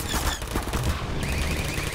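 Rapid automatic gunfire from a turret in Half-Life 2, a dense continuous burst lasting the whole moment with loud, crackling shots and no talking.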